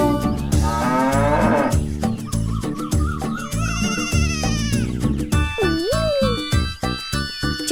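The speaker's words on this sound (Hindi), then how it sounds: "उनके खेत में थी एक गाय" A cow moos on a farm within a cheerful children's nursery rhyme, with loud drawn-out lowing calls set against bouncy music and jingling, playful tones throughout.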